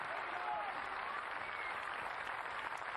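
A tennis crowd at a Sania Mirza versus Dementieva match applauds and cheers, a continuous wash of clapping and crowd noise that holds steady for the whole stretch, moderately distant, with no clear talk over it.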